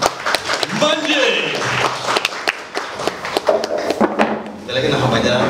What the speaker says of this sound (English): Round of applause one more time for the big man.